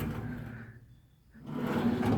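A toolbox drawer slides open and then shut, two scraping runs separated by a brief quiet pause, close to the microphone with no talking.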